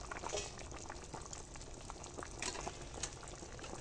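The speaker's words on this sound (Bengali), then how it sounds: "আলু ফুলকপিটা আমার প্রায় সিদ্ধ হয়ে এসেছে।" Potato and cauliflower bubble and simmer in a pot, a soft continuous burble with scattered pops and light crackles, faint and close, with no voices.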